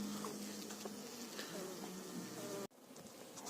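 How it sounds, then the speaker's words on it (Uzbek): Honey bees flying out of a hive make a dense, continuous buzzing drone of many insects nearby, steady for several seconds before a sudden knock cuts it briefly. "Ari bekda uchib qoldi."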